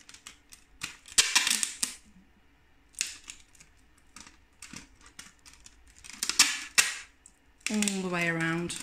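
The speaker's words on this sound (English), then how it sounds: "I'm overlapping the bottom very slightly with an extra piece of tape there, and just wrap that round as tight as you can" Tape pulled off the roll and stretched tight around a two-part dice cap mould, giving sharp crackling rips and short tearing bursts separated by pauses, close and fairly loud; a voice speaks briefly at the end.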